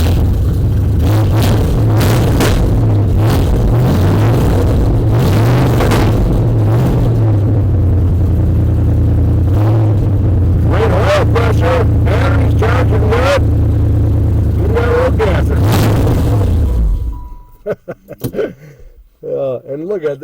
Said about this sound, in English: It runs nice. They've already chopped the exhaust system right off her.